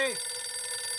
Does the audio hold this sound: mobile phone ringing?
yes